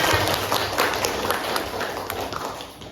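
Pupils in an Indonesian classroom burst into dense, continuous group clapping that stays steady and busy throughout, with faint chatter mixed in.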